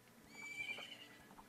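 A horse whinnies in the video game Zelda: Ocarina of Time, a single bright, moderately loud neigh in the middle of a short stretch, with faint hoof clip-clop around it and no voices.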